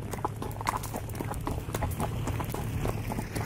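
Horse hooves clip-clop at a ranch, a steady trotting rhythm close by over a low engine-like hum, with no talk.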